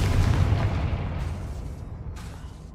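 Confringo spell explosion in Hogwarts Legacy: a heavy booming blast at the start with a low rumble that slowly decays over a couple of seconds, close and loud, with no talking.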